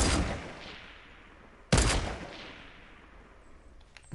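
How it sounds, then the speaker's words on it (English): Gunshots in a video game: a loud blast at the start, a second sharp booming shot with a long decaying echo, then a quieter crack at the very end. "I'm gonna shoot that."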